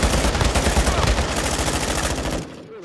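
Dense, continuous automatic gunfire rattles loud and close in the video game DMZ, shot after shot for over two seconds, then cuts off abruptly into near quiet.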